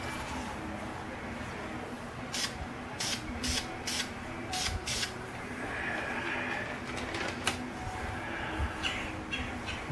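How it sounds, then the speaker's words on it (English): Short bursts of light spray paint hiss in a hot home garage, coming in several quick intermittent puffs over a steady background hum, with birds cooing faintly nearby. "I'm just doing some light spraying here."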